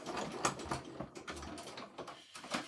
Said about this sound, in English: I'm just going to quickly run this through my cut and emboss machine